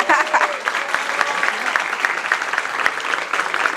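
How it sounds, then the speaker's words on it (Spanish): Audience applause at a live presentation, a steady crowd of clapping hands ringing out close and lively throughout, with scattered voices mixed in. "Un aplauso para él."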